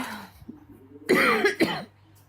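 A woman coughs, a faint throat noise followed by two harsh, close coughs in quick succession, then quiet.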